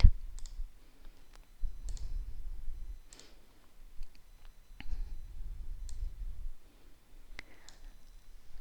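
Sharp, close computer mouse clicks as pins are selected one by one in RFPro circuit simulation software; about a dozen separate clicks at an uneven pace over a soft low background hum.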